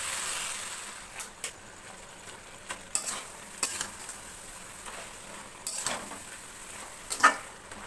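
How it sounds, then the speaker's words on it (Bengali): Jaggery melting in a pan for a chalta (elephant apple) pickle, stirred with soft intermittent scrapes and clinks over a faint low sizzle, close and quiet with no talk. "তারপরে আমি একসঙ্গে মিশিয়ে দেবো।"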